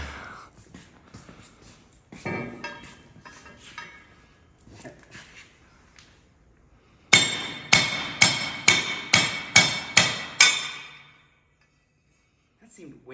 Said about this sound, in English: I gotta use my hammer anyway.